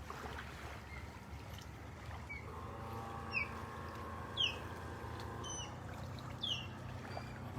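An osprey on a beach at Delnor-Wiggins gives four short, high screeches from somewhere above, faint and spaced a second or so apart over steady wind and surf noise.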